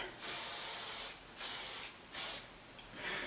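Three short hissing bursts of hairspray, each lasting about half a second, separated by brief pauses, close by and fairly quiet.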